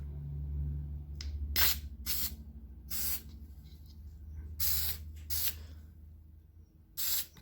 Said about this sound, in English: hold the can 12 inches away and spray both the inner and outer surfaces